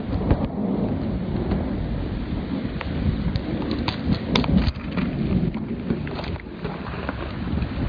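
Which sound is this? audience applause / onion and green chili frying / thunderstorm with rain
thunderstorm with rain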